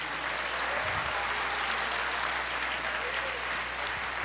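A church audience claps in a continuous, dense burst of many hands, steady from start to finish, with a low electrical hum underneath and voices mixed into the applause.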